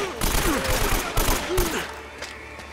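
Gunfire in Uncharted: Drake's Fortune: rapid bursts of automatic and pistol shots with sharp impacts and whizzing sounds, loud at first then thinning out toward the end.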